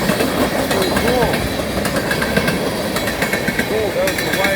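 A CN empty crude oil freight train of tank cars rolls past close by, with continuous loud rumbling, rhythmic wheel clicks and squealing flanges throughout.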